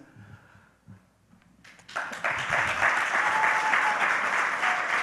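An audience breaks into applause for a speaker at a talk on stage. After a few scattered claps the crowd joins in with sustained, loud, dense clapping that fills the room.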